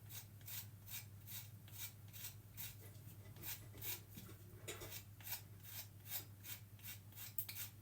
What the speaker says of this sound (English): you just scrape it down the sides of the lemon and it just scrapes the zest off and none of the bitter pith underneath